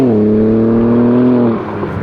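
Modified BMW G80 M3 accelerating hard, a loud steady engine drone climbing smoothly in pitch through a gear, then a sudden drop as the throttle lifts near the end, no voices.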